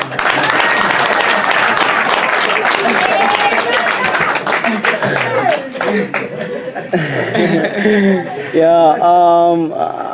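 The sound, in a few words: crowd applause at boxing champion's homecoming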